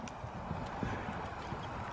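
Horse hooves clip-clop steadily as the horse is ridden outdoors during a riding lesson, a continuous close, moderately loud beat with no talk over it.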